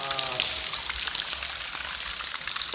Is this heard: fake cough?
no